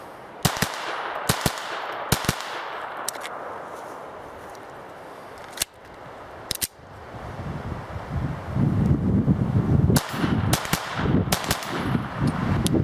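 Sharp, isolated shots from a Ruger 22/45 Lite pistol fired outdoors at a buried golf ball, several spaced cracks with a louder cluster midway, over steady wind noise on the microphone.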